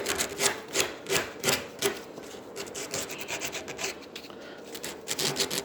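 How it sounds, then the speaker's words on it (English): A kitchen countertop being sanded by hand with sandpaper, giving a steady run of rhythmic rasping strokes, close and fairly loud, with no talking. "Take your sandpaper."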